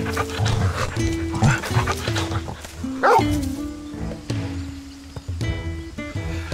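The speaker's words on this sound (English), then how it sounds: "This is Torgal, a wolf pup raised in the duchy." Torgal, a wolf pup from Final Fantasy XVI, gives several close barks and yips over game music, with one sharp whimpering yelp in the middle.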